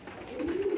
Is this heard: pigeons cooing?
yes